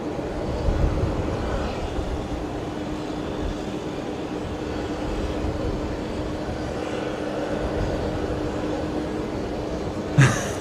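An Airbus A380 departs Brisbane Airport at night, heard as a distant, steady broadband engine roar that holds level throughout, ending in a brief sharp noise.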